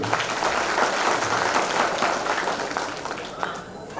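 A crowd at a training meeting held at Atlantis Resort in Guntur breaks into applause, a loud sustained wash of clapping that thins slightly toward the end.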